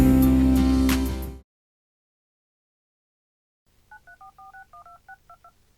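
A loud burst of music cuts off abruptly, and after a pause a telephone keypad sounds a quick run of about a dozen short, clear dialing beeps.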